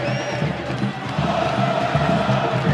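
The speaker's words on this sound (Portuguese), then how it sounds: "Torcida da Ponte Preta faz festa aqui no Bruno José Daniel." Ponte Preta supporters roar and celebrate in the stands at Bruno José Daniel stadium during a Paulistão 2024 match against Santo André, a dense, steady crowd din with chanting voices filling the whole stretch.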